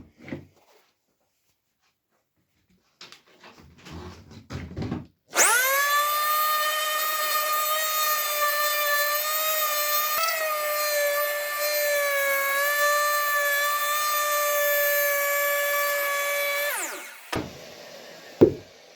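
A Bosch PEX 300 AE random orbital sander fitted with 240-grit paper works a wooden board. After a few quiet handling clicks, its loud whining motor runs steadily for about twelve seconds, then shuts off.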